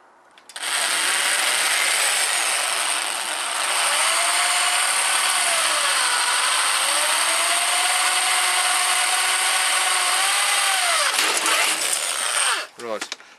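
A power drill bores through an aluminium greenhouse frame with a steady, loud, high-pitched whine that holds for about twelve seconds, its pitch wavering slightly under load before stopping with a few short clicks.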